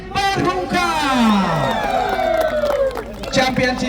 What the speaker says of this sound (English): please have a huge round of applause for the champion team